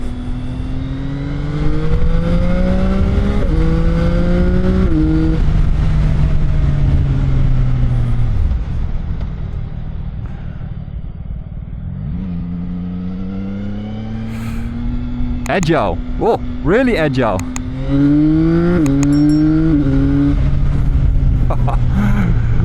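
Three-cylinder engine of a CFMOTO 675NK motorcycle pulling hard through the gears while riding, loud rising revs with quick upshifts, a dip to idle mid-way, then renewed acceleration under wind, with a rider speaking briefly.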